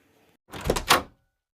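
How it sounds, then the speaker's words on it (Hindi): An indoor house door being opened, heard as two quick close knocks or clunks in succession from the latch and frame, brief and fairly loud against near silence. "मैं जाके दरवाज़ा खोल देती हूँ।"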